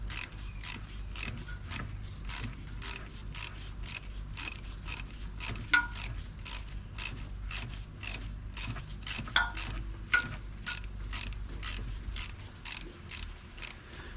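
A ratchet with a number 8 socket working on heater hose clamps of a Cobalt HHR with the LNF engine, quick regular clicking strokes close up, continuing steadily for most of the stretch with no talking.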